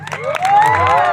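Crowd cheering and shouting at a live devotional dakdamru program in Pithalpur, a loud, close swell of voices with rising whoops and some clapping, lasting about a second.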